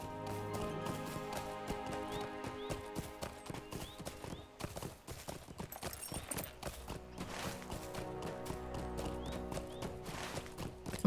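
Horse hooves gallop in the fantasy game LOTRO, a steady rhythmic clip-clop of hoofbeats that is close and fairly loud and runs through the whole stretch, over faint layered game ambience, with no talking.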